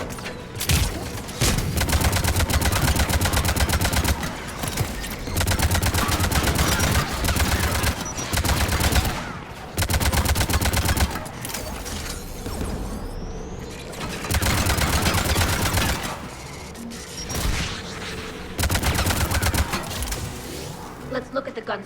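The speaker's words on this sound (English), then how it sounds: "AA guns ahead of us." Anti-aircraft guns firing in the Mass Effect 3 video game, long sustained bursts of rapid heavy fire broken by short pauses, loud and close over a low rumbling battle backdrop.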